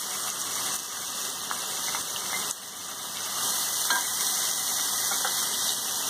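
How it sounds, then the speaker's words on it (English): Onions frying in a hot pan, a constant hissing sizzle that holds steady and swells slightly after a brief dip midway, with no voices. "Now we'll add in our onions."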